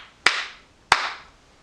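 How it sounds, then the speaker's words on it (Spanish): Two sharp, separate hand claps about two-thirds of a second apart, close and crisp, each trailing off in a short room echo, with no talking. "Ahora se puede aplaudir."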